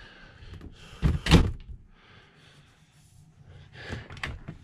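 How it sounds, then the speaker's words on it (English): Cabinet doors inside a Newell motorhome coach are swung open and shut, giving a loud cluster of solid thunks and knocks around the middle, then a second burst of door handling near the end, with quieter rustling in between. "these Newell cabinet doors, when I open and close these, you can really feel the quality"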